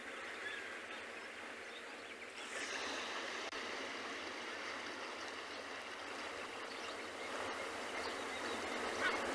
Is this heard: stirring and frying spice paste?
no